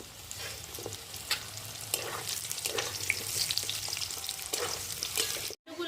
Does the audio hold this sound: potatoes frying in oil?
yes